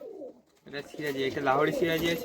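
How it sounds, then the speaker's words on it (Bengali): Fancy pigeons, including Sirazi, coo in low, throaty rolls, close and fairly loud, with a brief quiet gap before a longer burst of cooing. "কি কি পায়রা রয়েছে এগুলো"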